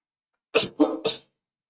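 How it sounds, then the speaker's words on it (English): Three harsh, close coughs in quick succession from a person recovering from an illness, each a short burst with a brief gap between, standing alone against silence. "I just have a cough still"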